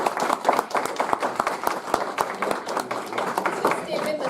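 Round of applause from a small group at a youth commission workshop, with distinct individual claps and murmured voices underneath.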